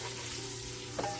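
Green rice ingredients frying and being stirred in a pan over lowered heat: a soft continuous sizzle with a faint scrape of stirring near the end, brief and close, with no talk.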